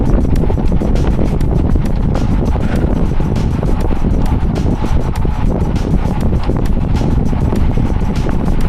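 Strong wind buffets the microphone of a cyclist riding a path in Belgium, producing a loud, constant low roar and rumble that fills the whole stretch with no speech.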